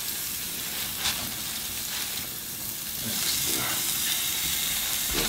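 Lamb chops on a grill sizzle with a loud, continuous hissing crackle, close and steady, swelling slightly louder midway with a few sharper pops.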